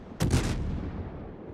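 Rear guns of a warship fire in World of Warships, one heavy booming salvo that rings out briefly and decays into a rumbling tail, with no talk.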